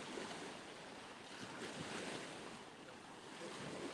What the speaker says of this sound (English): you can just relax and enjoy the sound of the ocean.